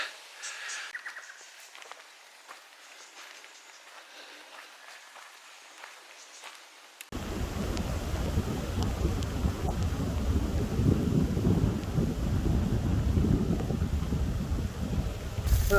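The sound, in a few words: heavy rain pouring down with wind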